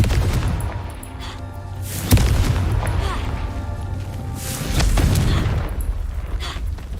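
A Confringo spell goes off in the game Hogwarts Legacy with sharp booms and blasts, mixed with repeated combat bursts and crashes over several seconds.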